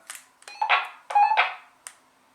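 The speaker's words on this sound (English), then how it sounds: "this one just beeps when you turn it on" A short sequence of electronic beeps and chirps from a Baofeng BF-888 handheld two-way radio powering on, set to PMR 446 channel 1, with clicks between tones, close and clear in a quiet room.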